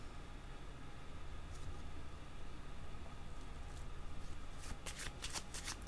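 Cards being shuffled for a tarot-style card reading: a soft, continuous riffling rustle close by that grows into quick sharp flicks near the end, with no voices over it.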